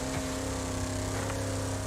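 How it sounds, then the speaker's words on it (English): Car engine in the Wreckfest racing game, a steady droning hum with strong tonal harmonics held at a constant pitch throughout, sustained and even without voices. "The car sounds amazing though"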